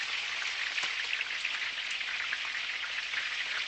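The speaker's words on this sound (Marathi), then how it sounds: "दुसरी बाजू सुद्धा आता आपली व्यवस्थित फ्राय झालेली आहे" Bombay duck (bombil) fish fries in a pan for a crispy fry, giving a loud, steady, close-up sizzle of hot oil that crackles continuously without pause.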